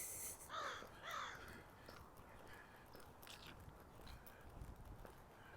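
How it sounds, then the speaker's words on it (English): Crows caw a couple of times early on a chilly September walk around Wascana Lake in Regina, faint and somewhat distant, followed by quiet outdoor ambience and soft footstep-like sounds. "there's the crow that was talking to me"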